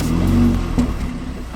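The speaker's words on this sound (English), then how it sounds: "There is a bit of sporty exhaust sound when you start the car" A 2019 BMW 3 Series fires up, giving a brief loud revving burst of sporty exhaust that quickly settles to a lower idle rumble.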